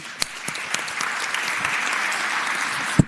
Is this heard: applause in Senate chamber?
yes